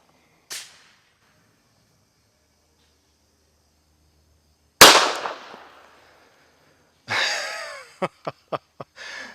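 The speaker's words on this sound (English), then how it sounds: "1 last round and 1 last try to find out if this pistol is a tack driver." Military Armament Corporation MEUSOC pistol fired at an outdoor range: one faint early crack, then a single loud, sharp report with a ringing tail, followed by a burst of noise and four quick clicks.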